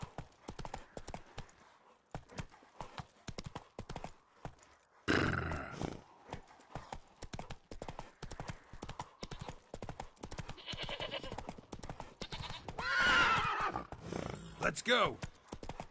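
Hoofbeats from Roach, the horse in The Witcher 3: Wild Hunt, patter quickly and steadily under game sound, with a neigh rising near the end and a voice speaking briefly.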